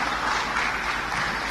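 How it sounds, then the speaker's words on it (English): An audience applauds at the grand final of a Formula 4 esports racing competition in the UK, steady, dense clapping throughout with no one speaking. "Have a round of applause for Monica."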